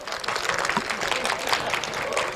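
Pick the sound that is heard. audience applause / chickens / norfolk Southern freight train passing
audience applause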